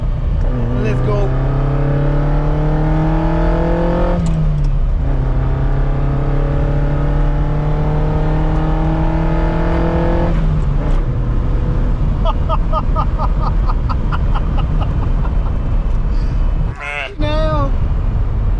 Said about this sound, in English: the owner changed the exhaust. It's not the stock one, but they make a great deal with it because the sound is amazing.